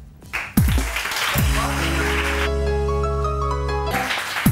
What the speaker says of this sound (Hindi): बहुत सारी तालियां, बहुत सारी तालियां